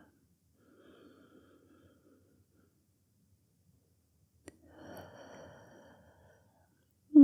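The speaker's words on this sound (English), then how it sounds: "One more full breath cycle here." Slow, deep breathing during a quiet yin yoga session for the neck and shoulders: a soft, faint inhale, a long pause, then a fuller, audible exhale, with no talking over it.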